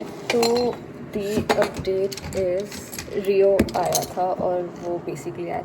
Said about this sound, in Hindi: उसी के बर्तन की आवाज़ है